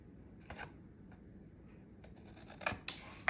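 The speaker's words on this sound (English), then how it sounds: "make sure you put your scissors up against that chipboard there so you're not cutting away any of the chipboard" Scissors trimming paper and chipboard while assembling a scrapbook envelope flip album, a few quiet crisp snips and paper rustles in a hushed room, with two sharper cuts near the end.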